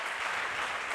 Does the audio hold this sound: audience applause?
yes